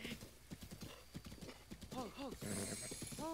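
Rhythmic clip-clop of horse hooves from Zelda: Breath of the Wild trots close by, followed by several whinnies and neighs toward the end, all fairly faint in the game audio.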